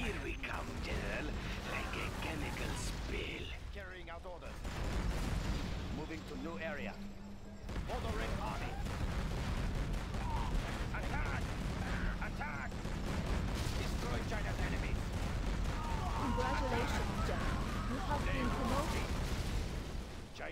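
Repeated heavy cannon blasts from Battlemaster tanks in the strategy game Command & Conquer Generals Zero Hour, booming in a steady barrage over dense battle noise, with voices talking throughout.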